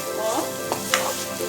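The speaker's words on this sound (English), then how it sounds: "Continue frying on low flame for some more time till you get the fried nutty aroma of" Grated coconut mixture frying on a low flame for Chettinad chicken curry, a soft steady sizzle with a few light scraping and stirring clicks.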